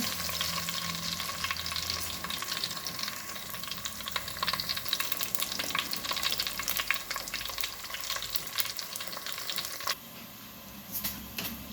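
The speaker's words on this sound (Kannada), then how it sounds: "ಎಣ್ಣೆ ಬಿಸಿಯಾಗಿದೆ. ಈಗ ಬೆಳ್ಳುಳ್ಳಿ ಮೊದಲಿಗೆ ಹಾಕ್ಕೊಳ್ತೇನೆ." Garlic fries in hot oil in a clay pot as a tempering begins, a loud continuous crackling sizzle with dense popping spatter, easing slightly near the end.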